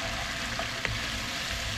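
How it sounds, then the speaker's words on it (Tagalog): Garlic sautéing in used frying oil, a steady dense sizzle with a faint tap or stir partway through, no talking. "Magigisa naman tayo ng bawang."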